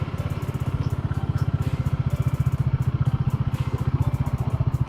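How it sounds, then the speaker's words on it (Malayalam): A 2019 Bajaj Dominar 400 motorcycle runs with a steady, rapid low thump while cornering, its engine giving a rough, knocking clatter, loud and close throughout with no talk. "എൻജിൻ നോക്കിങ് ഉണ്ട്."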